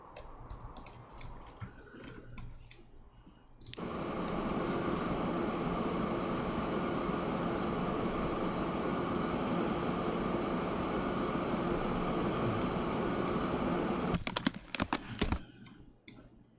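Train running in Transport Fever 2, heard as a steady, loud broadband rumble that holds for about ten seconds and then cuts off, with scattered clicks before and after.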